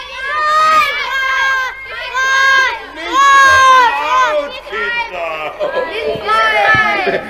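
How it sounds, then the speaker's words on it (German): In an audio drama, a crowd of freed children cheers and shouts loudly in repeated overlapping bursts, high excited voices rising and falling close by. "Nachdem alle Kinder befreit waren, gab es natürlich zunächst einmal großen Jubel."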